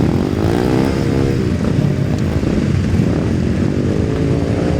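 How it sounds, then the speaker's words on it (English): A 500 cc Norton racing motorcycle at the Senior Classic TT road race drones steadily with a loud, continuous engine note, close and sustained throughout with no talk. "Number 27 is a promoted rider that was racing number 48, Michael Russell, on a 500 Norton"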